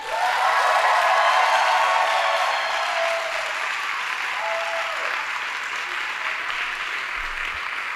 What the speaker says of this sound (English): let's have a big round of applause to Dr. McCobb and Dr. Pizzarani